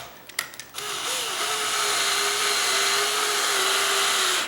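A power drill drives a screw into a tall sagging door, a steady loud whine with a slight pitch wobble running after a few short handling clicks at the start.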